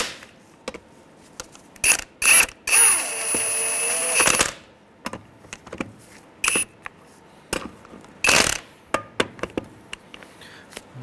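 Socket ratchet with a 19 mm socket snugging bolts on a 2003-2011 Honda Element during A/C condenser replacement; quick bursts of close, sharp ratcheting clicks come in short runs separated by pauses.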